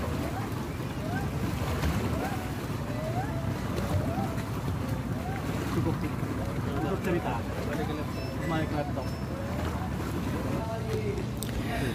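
A small speedboat comes in to dock at Tanjung Selor, its engine drone blending with wind buffeting and splashing water in a continuous, loud rush while faint voices mix in.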